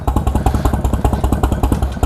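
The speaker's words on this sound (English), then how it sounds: "Naturally aspirated EVO engines." Close and loud, a Harley-Davidson EVO V-twin motorcycle engine, naturally aspirated, lopes at idle with a lumpy potato-potato beat, irregular paired thuds rolling on with light valvetrain clatter and no voices.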